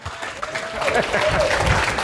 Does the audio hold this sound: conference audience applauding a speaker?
yes